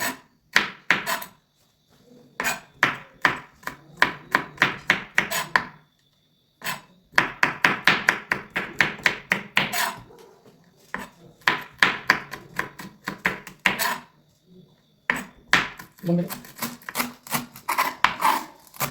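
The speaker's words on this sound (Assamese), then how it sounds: "কেইটামান কেঁচা জলকীয়া সৰু সৰু টুকুৰা কৰি কাটি ল'ব।" A knife chops raw green chillies into small pieces on a cutting board for a duck curry with ash gourd, in quick rhythmic bursts of sharp taps separated by short pauses, close and clear.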